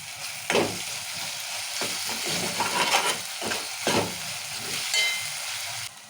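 Ginger, tomatoes and onions fry in oil for a ridge gourd curry, with a steady sizzle broken by several louder bursts of hiss and scraping as the pan is stirred, with no voices.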